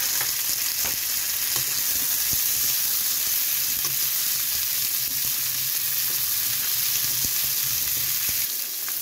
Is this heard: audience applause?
no